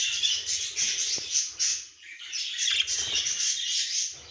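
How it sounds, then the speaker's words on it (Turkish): Budgerigars chirp and twitter continuously in a lively, overlapping chatter, fairly close. "Bir takım muhabbet kuşumuz burada var."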